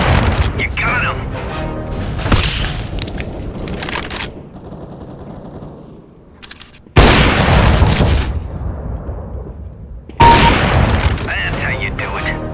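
Rapid bursts of gunfire in Counter-Strike: Global Offensive team deathmatch on the Office map, loud sharp volleys separated by quieter gaps, with a voice speaking between bursts.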